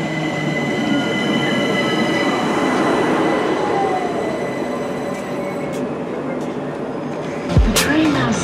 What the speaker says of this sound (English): The train now approaching platform 3 is the delayed 10:58 London Overground service to Clapham Junction.